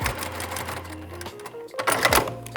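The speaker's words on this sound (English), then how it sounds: "Then I'm going to turn it around and sew a scant 1/4 inch on the other side." A sewing machine stitches quilt fabric pieces with a scant quarter-inch seam, a close short whirring run with a brief back stitch, continuous and mechanical.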